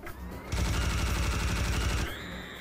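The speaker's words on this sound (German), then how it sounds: "Von wo schießen die jetzt schon wieder?" Rapid automatic gunfire from the video game Serious Sam: a loud, fast burst of repeated shots that starts abruptly, lasts about a second and a half, then gives way to a lingering electronic drone.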